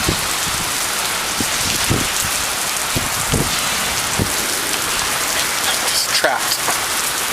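Heavy storm rain pours steadily and loudly around a Mazda car on the road to work, with scattered sharper drop impacts throughout and a brief spoken remark partway in.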